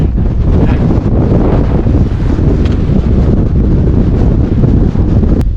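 Strong, cold wind buffets the microphone near the summit of Meall a Bhuachaille on a winter trail run, a loud continuous low roar with gusty fluctuations throughout and no voices.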